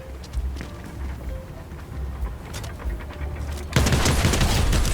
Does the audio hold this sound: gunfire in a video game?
yes